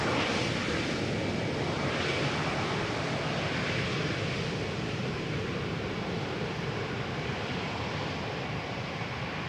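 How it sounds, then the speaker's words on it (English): An Airbus A320neo airliner arriving from Birmingham at Schiphol's Polderbaan runway produces a steady, broadband jet roar that holds evenly for the whole stretch, moderately distant with no voices. "A320neo arriving from Birmingham"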